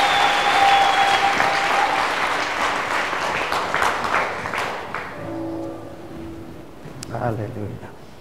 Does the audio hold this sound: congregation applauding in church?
yes